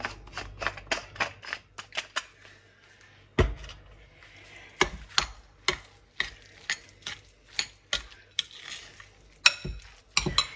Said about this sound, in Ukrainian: і гарно-гарно перемішуємо